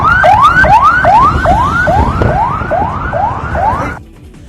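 Ambulance sirens at a hotel attack scene, a loud rapid rising whoop repeating about every half second for four seconds before cutting off, with traffic rumble and crowd noise beneath.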